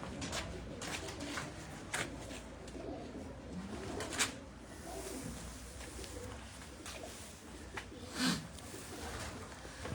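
Pigeons coo softly on a rooftop, a few low murmuring calls over faint background noise, with occasional brief sharper sounds.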